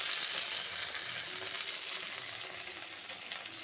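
Okra sizzles in hot oil in a wok with a steady, loud crackle, easing slightly toward the end, and is stirred occasionally.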